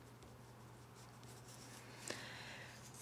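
A pen scratches quietly across paper during a physics problem walkthrough, a soft continuous rubbing with one brief louder stroke, under a steady low hum.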